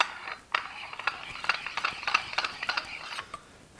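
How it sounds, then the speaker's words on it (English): A metal castle nut is threaded onto the threaded section of a CineMilled Ronin 2 universal mount, giving a close run of light ratcheting clicks and metallic ticks, with no speech. "And then you take the castle nut and you can now thread that on."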